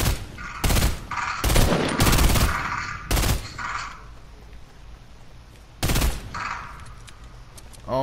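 Bursts of gunfire from Fortnite squads play ring out in sharp clusters, several volleys in the first three seconds and another around six seconds, with quieter game ambience between.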